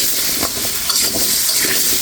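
Potatoes frying in a pan, a steady broadband sizzle with faint scraping stirs, close and moderately loud, no talking.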